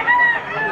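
A white-legged stag, a young rooster, crows briefly at a busy Malabon pet market in the Philippines, one short strained call lying close and fairly loud over a murmur of market noise.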